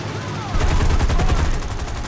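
Heavy gunfire erupts in the aerial combat game War Thunder, a dense, rapid burst of machine-gun fire that jumps suddenly louder and rattles continuously at close range.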